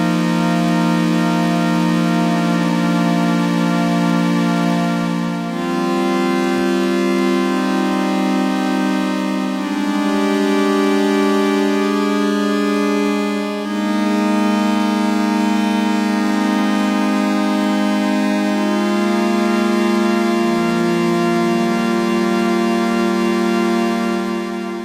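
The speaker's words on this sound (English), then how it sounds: "So we're going now back to a square wave, and man, does it sound gorgeous." A Yamaha CS70M analog synthesizer plays sustained square-wave notes in a slow sequence of held chords, bright and buzzy with rich harmonics, loud and steady with no talking.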